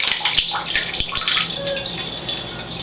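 Water runs steadily from a tap into a newly fitted bathtub that drains slowly, giving a continuous mid-level splashing rush with a few bubbly gurgles.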